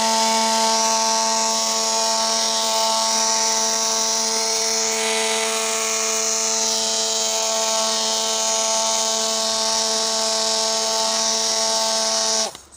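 An electric mixer whirs steadily as it stirs caustic soda solution into oil for homemade herbal soap, a constant close motor drone with a few bright harmonics that cuts off abruptly at the very end.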